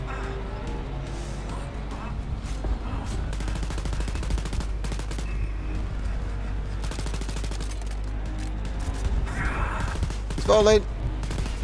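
Bursts of gunfire in the Wolfenstein Youngblood video game, rapid automatic volleys and sharp shots scattered across the stretch under ongoing game sounds, with someone talking and a loud blast near the end.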